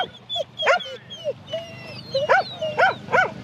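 Sheep dogs used for trialling on a farm bark and whimper in short yips and whines, several close calls spread across a few seconds with brief gaps between them.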